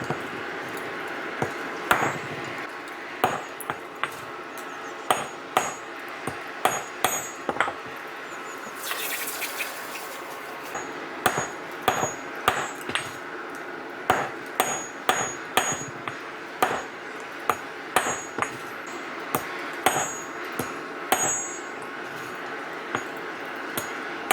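Repeated sharp metal-on-metal blows from a blacksmith's hammer shaping a square taper on the end of a metal pin, struck in an uneven rhythm of quick bursts and brief pauses, close and fairly loud with no talk.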